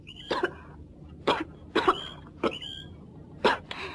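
Five short, sharp coughs from a person after drawing on a cigarette, spaced unevenly over a few seconds, close and fairly loud against a quiet background.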